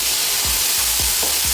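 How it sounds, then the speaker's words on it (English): Brandy sizzles loudly in a hot pan taken off the heat just before flambéing, a dense steady frying hiss with a few soft stirring or scraping thumps, close and without talk. "What we're going to do is add our brandy. You're going to hear it sizzle,"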